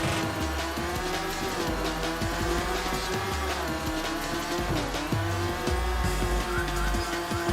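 Race cars roaring and overtaking in Rage Racer video game, engines whining at high revs with shifting pitch, tire squeal and a continuous loud motor drone over pulsing game music.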